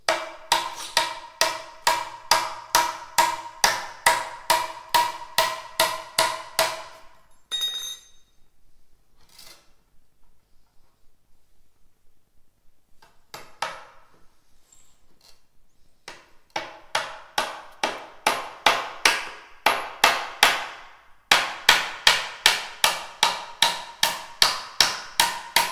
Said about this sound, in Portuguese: A gente vai pregar dois pregos para encaixar a parte de baixo na parte de cima aqui